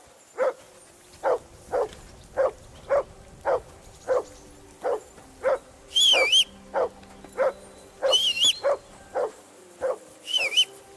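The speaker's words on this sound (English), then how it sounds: "Call that dog to heel." A dog in the medieval video game Kingdom Come: Deliverance barks repeatedly in a steady series of sharp, evenly spaced barks, with a few higher whining yelps mixed in and no speech.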